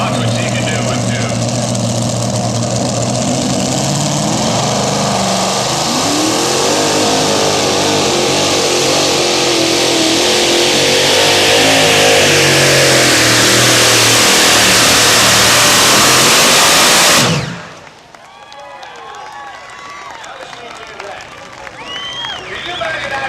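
A twin-engine pulling tractor roars loudly and continuously at a truck and tractor pull, its revs climbing for about seventeen seconds before cutting off abruptly, after which faint talk and crowd noise remain.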